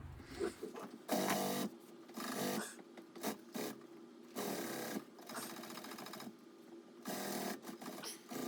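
A sewing machine stitches truck upholstery for an 80's red Chevy truck in quick, loud bursts of rapid mechanical chatter separated by brief pauses and fabric handling noises, close up with no talking.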